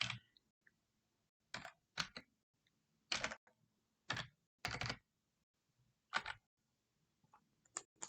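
Code being typed on a computer keyboard: short bursts of crisp key clicks in separate clusters with quiet gaps between them, close and fairly soft, no talking.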